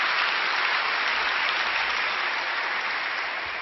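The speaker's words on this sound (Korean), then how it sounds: "우리 큰 박수로 감사로 장려하겠습니다." A church congregation at an early-morning prayer service claps together in warm thanks, a thick, uniform wash of applause that carries on without a break and without speech.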